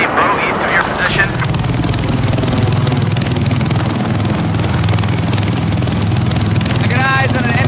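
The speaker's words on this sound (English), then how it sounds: "I got eyes on an enemy helicopter." An enemy helicopter in a video game gives a loud, steady rotor and engine drone that runs throughout, close and constant, with brief game effects layered over it.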